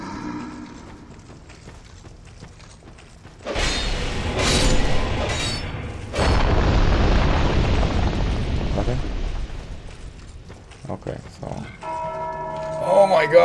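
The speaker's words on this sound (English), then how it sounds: "God, they rang the bell." Church-style bell tolling in the video game Dark Souls 2, loud resonant strikes swelling over a low rumble and ambient game sound, with a brighter ringing tone returning near the end.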